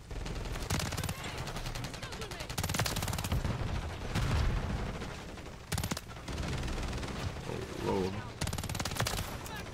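WSP Swarm submachine gun fire in Call of Duty MW3, loud dense automatic bursts in several long strings broken by brief pauses, with voices talking over the shooting.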